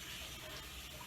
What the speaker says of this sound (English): Let me just rinse my hands off really quickly.